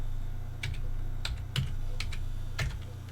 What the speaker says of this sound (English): And now we type in our password.